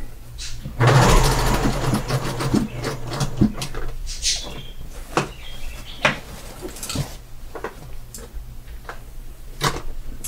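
A sewing machine stitches fabric for a Moroccan-style storage ottoman, with a rapid mechanical whir and needle clatter that starts loud and then continues in uneven bursts, mixed with fabric handling and clicks.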